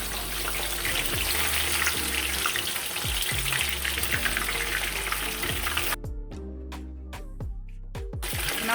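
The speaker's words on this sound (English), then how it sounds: "I'm just gonna toss that right in the oil." Fish dropped into hot oil for escovitch fish, giving a loud, dense, continuous frying sizzle close by, followed by a few sharp clatters and knocks as the sizzle cuts away near the end.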